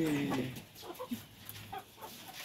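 Chickens cluck and squawk in short, scattered bursts at moderate distance, with a brief higher call at the start and quiet gaps between.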